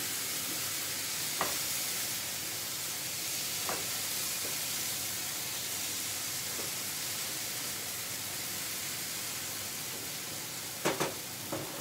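Onions caramelizing in a hot pan sizzle in a steady, even hiss, broken by a few soft scraping knocks of a utensil stirring them and a couple of sharper clicks near the end; no voices.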